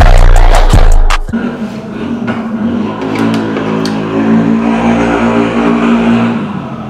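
Motor vehicles on a Friday night street, a loud close engine roar at the start cutting off abruptly, then a continuous revving and passing traffic drone with a few sharp clicks.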